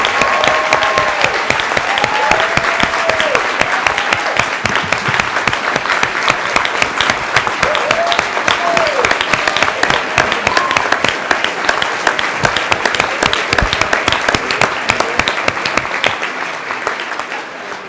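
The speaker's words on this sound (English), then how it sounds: "Show them by standing and applauding." A graduation ceremony audience stands and applauds, with dense, sustained clapping filling a large room and continuing steadily before it tapers slightly at the end, plus a few faint cheers mixed in.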